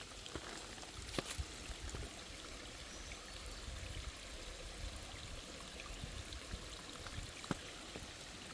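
A mountain creek along a spring hiking trail flows in a steady, close rushing wash with constant trickling texture and occasional faint clicks, and no talking.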